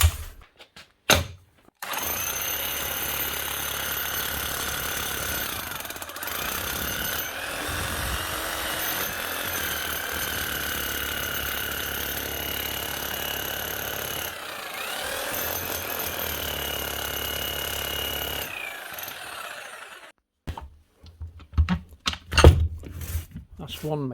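A repaired Makita HR5000K rotary hammer drill runs steadily for about eighteen seconds with a loud, even mechanical hammering drone, then stops, followed by some clattering handling noise.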